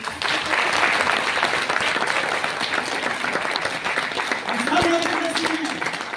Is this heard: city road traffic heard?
no